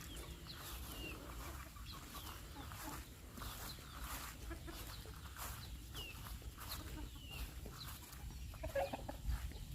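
Chickens cluck and a rooster calls intermittently in a farm pen, moderately close under a low rural background, with a voice speaking faintly at times.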